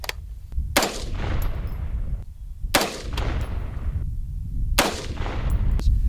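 A FoldAR folding rifle fires Fiocchi 77 grain match rounds into dirt outdoors, three loud, sharp cracks about two seconds apart, each followed by a short rumbling echo.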